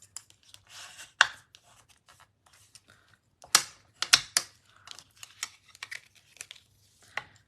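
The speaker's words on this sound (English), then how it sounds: "now we burnish the score lines" Score lines on paper for a mini album are burnished with a tool. Quiet, irregular scraping and rubbing strokes come close up, with a few sharper crinkling accents in between.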